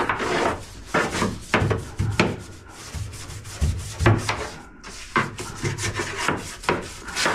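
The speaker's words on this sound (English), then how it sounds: "I'll come back in with the scuff pad again here in a minute." A scuff pad rubs hard against the old painted hood jamb of a 1970 Buick Wildcat, loud close scrubbing strokes in a steady back-and-forth rhythm, with no talk.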